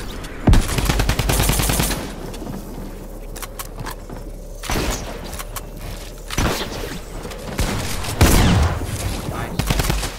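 Rapid bursts from a drum gun in a Fortnite-style build fight scrim, loud repeated automatic fire in several volleys with thumps between them, while players talk over the action.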